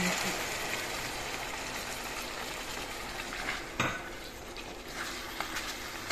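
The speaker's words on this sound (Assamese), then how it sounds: "পানীখিনি দি এনেদৰে লৰাই দিছোঁ" Meat curry is stirred in a pot after water goes in, giving a constant soft bubbling hiss and occasional utensil scrapes, with a voice talking over it.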